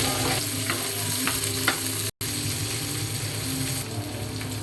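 Onion sautés with golden-browned ginger and garlic in a pan, a continuous dense sizzle with light scraping stir strokes, briefly cut by a sharp dropout before the frying resumes unchanged.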